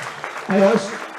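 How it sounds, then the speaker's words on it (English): Audience at an Ulster Junior Championship final (Derry vs Fermanagh) gives a brief burst of applause for sponsors, a short swell of clapping that rises and fades under and after a voice addressing the crowd. "let's give them a special round of applause as well"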